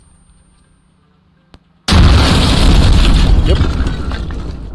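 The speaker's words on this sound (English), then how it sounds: "Usually that second explosion means it's dead." An ATV blows up in the Arma Antistasi video game: after near silence and a small click, a sudden loud explosion bursts out and rumbles on, slowly fading, with a brief voice.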